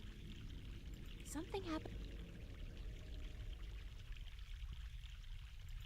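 Steady rush of a mountain stream in The Longest Journey, flowing continuously under a voice that speaks briefly.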